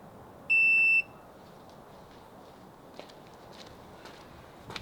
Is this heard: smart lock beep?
yes